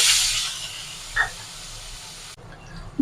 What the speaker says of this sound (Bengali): ওই আলু ভাজার তেলটাতেই আমি এই মশলাটা